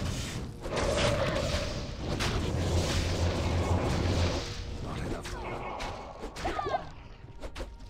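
Corpse Explosion blasts from the Necromancer skill in Diablo II on Hell difficulty, heavy booming bursts layered over dense game noise for most of the stretch, easing later with a few sharper clatters.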